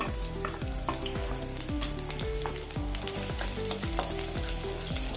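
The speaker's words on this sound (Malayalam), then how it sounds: "ഏഴ് പച്ചമുളക് ചെറുതായി അരിഞ്ഞത് എട്ടല്ലി വെളുത്തുള്ളി ചതച്ചത് രണ്ടും കൂടി എണ്ണയിലിട്ട് കൊടുക്കാം" Chopped green chillies and crushed garlic frying in oil make a steady, crackling sizzle with stirring, close and continuous, while soft music plays in the background.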